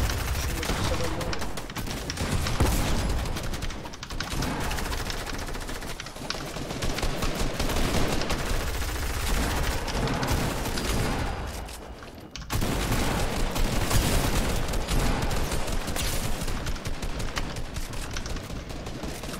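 Dense video game gunfire rattles almost nonstop in rapid automatic bursts, with booms and explosions mixed in, loud and close, while someone talks over the shooting.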